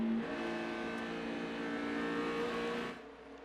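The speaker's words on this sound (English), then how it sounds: "You could hear him having to play with that throttle off the corner." Jeff Gordon's NASCAR race car at California's Auto Club 500 feeding the throttle off a corner, a sustained loud engine roar with shifting revs that cuts off abruptly near the end.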